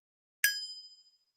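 A single metallic clang from a struck pure metal pan, bright and close, ringing with a splashy bell-like shimmer that fades out over about half a second.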